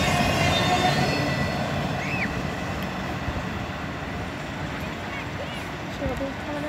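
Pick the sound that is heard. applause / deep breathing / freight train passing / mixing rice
freight train passing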